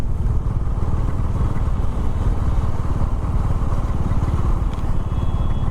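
Bajaj Dominar 400 motorcycle cruising in sixth gear below 50 km/h, a steady low engine drone with a rapid even pulse running unbroken and fairly loud, with no speech over it.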